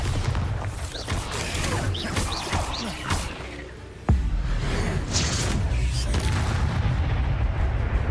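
A Bombarda blasting spell explodes in Hogwarts Legacy, a sudden loud boom midway after a stretch of swirling magical effects, followed by a sustained rumbling roar.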